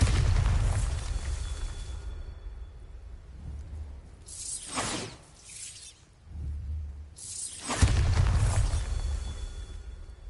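Bombarda spell explosions in a wizarding video game: deep, rumbling booms with crackling bursts that swell, fade and return, loud and filling the scene, with no voices.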